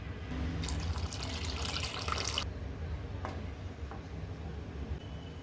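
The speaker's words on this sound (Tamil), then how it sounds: "இதுக்கு தேவையான அளவு தண்ணி சேர்த்து கன்சிஸ்டன்சி அட்ஜஸ்ட் பண்ணிக்கலாம்." Water poured into thick tamarind curry containing drumstick, brinjal and jackfruit seeds, a steady close splashing pour for about two seconds, then the pot settling with a couple of small clinks over a low background hum.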